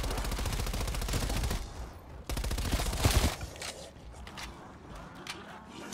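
SMG gunfire in Call of Duty Black Ops Cold War zombies mode, with two rapid, loud automatic bursts of closely spaced shots, then scattered single pops and clicks fading into quieter game noise.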